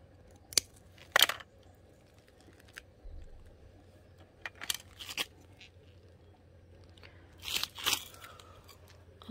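Scissors snip through a Graptopetalum succulent stem: a few sharp, close crunching cuts spaced several seconds apart in an otherwise quiet room.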